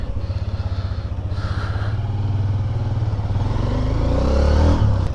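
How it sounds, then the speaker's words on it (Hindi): A motorcycle on a mountain road tour through Pakistan's Leepa Valley chugs with a rapid, pulsing engine beat nearby, rattling and clattering as it rolls, then revs louder toward the end. "आमिर भाई की जो है ना मोटरसाइकिल की किक टूट गई है।"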